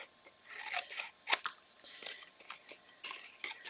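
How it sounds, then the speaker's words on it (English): Scissors trimming paper flaps on a papercraft Halloween treat box: a run of crisp, close snips and rustles, one sharp cut standing out, quiet and without speech. "these are flaps. These are going to come onto here. So I'm going to trim these down first."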